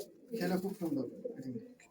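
Giribaz pigeons coo briefly up close in a short burst, with a person talking over them.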